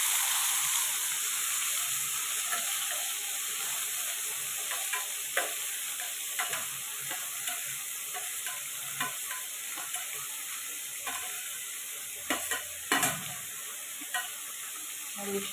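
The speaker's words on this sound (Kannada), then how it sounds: "ಸೊ ಸಾಸಿವೆ ಹುರಿದಾದ ನಂತರ ನಾವು ಅದಕ್ಕೆ ಈರುಳ್ಳಿ, ಹಸಿಮೆಣಸಿನ್ಕಾಯಿ ಹಾಕ್ಕೋಬೇಕು." Onion, green chili and tomato fry in oil after mustard seeds, giving a continuous close sizzle with a steamy hiss and intermittent spoon scrapes and clinks, no talking.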